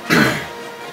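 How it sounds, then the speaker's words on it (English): A single short, sharp cough or throat-clear close to the mic, a quick burst that trails off into a quiet hum. "If you're wondering why I'm coughing,"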